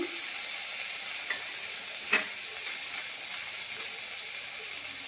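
Onion and ginger paste hitting browned onions in a hot kadai gives a steady, fairly quiet sizzle, with a couple of brief stirring clicks.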